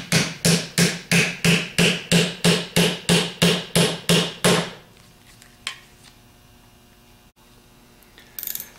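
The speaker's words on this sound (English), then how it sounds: "Set a 3/8 socket on top of the bearing and tap it down in." A bearing on a 6G alternator is tapped down with a 3/8 socket in about fourteen sharp, evenly spaced metallic blows. The hammering stops, leaving quiet with a couple of faint knocks.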